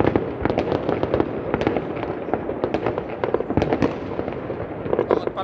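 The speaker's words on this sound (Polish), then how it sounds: "Odpalają, patrzcie." New Year firecrackers burst outdoors in a dense, crackling barrage, with many sharp pops stacked rapidly over several seconds, loud and continuous, while voices talk underneath.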